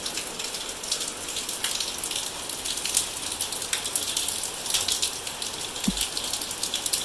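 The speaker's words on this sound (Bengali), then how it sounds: "এই দেখো, আকাশ একদম মেঘে ভরা, বৃষ্টি চলছে।" Steady rain pours down under a heavily clouded sky, a dense, even hiss of drops drumming on surfaces for the whole stretch, with no voices.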